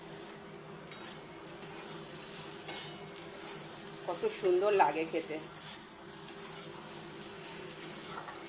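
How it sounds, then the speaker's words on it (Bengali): Sliced beetroot, seasoned with black pepper and sugar, fries in a pan with a constant, even sizzle. Sharp stirring scrapes and clinks come at intervals, and a voice talks briefly midway. "বিট ভাজা করছি।"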